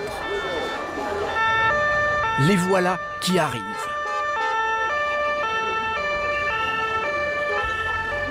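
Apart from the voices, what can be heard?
emergency vehicle sirens in the street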